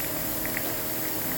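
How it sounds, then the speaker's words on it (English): Steady rushing hiss of an air blower forcing air through a clogged car sunroof drain, continuous and fairly loud with no break across the short stretch. "we can hit it with a little air. Give me that air blower."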